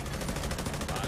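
Rapid gunfire from The Division 2 video game, a dense, continuous burst of shots filling the clip at moderate loudness with no pauses.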